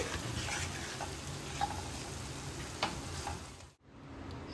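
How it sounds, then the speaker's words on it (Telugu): Masala for butter chicken is stirred and fried in a pan, an even close sizzle with rhythmic spoon scrapes and light knocks, fading out abruptly near the end with no voices. "ఇలాగా కలుపుతూ వేయించుకోండి, లేదంటే అడుగంటుతుంది"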